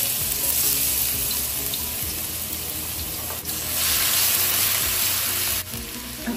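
Garlic fries in olive oil in a pan, giving a loud, close, continuous crackling sizzle that swells slightly midway and never lets up.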